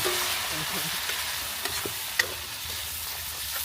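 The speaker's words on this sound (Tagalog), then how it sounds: "sinalang na po minsan yung atay" Pork liver sautéing in a pan for Batangas lomi, a constant close sizzle with occasional clicks and scrapes from stirring.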